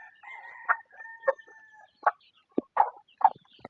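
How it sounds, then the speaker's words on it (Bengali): Chickens on a small village home farm cluck in short, separate bursts, about eight close calls over a few seconds with a thin, drawn-out call running underneath at the start. "এই যে দেখতে পাচ্ছেন সব মুরগি"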